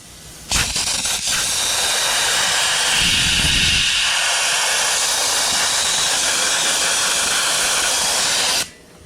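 A sandblaster blows a loud, steady hiss of compressed air and abrasive media, with the valve partly closed for more air and less media. The blast starts abruptly, holds constant with a short rougher patch early on, then cuts off sharply.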